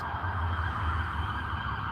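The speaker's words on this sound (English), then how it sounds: "And as I speak, you hear the sirens in the back." Emergency vehicle sirens wail in the background at night near a tent in Charlotte, a steady distant tone hanging over a low rumble of traffic, without any voices.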